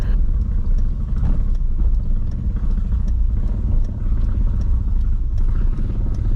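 A car climbs a mountain road at Phu Thap Boek with a loud, steady engine rumble and road noise heard from inside the vehicle throughout.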